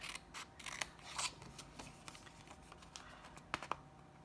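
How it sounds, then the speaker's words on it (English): Paper snips cut out pieces of paper for a handmade card, producing quiet, irregular crisp snips and small rustles, close by and faint with no talking. "you just cut those pieces out using your paper snips"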